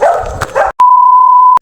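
Two or three sharp barks and yips come in quick succession, followed by a long, steady electronic beep.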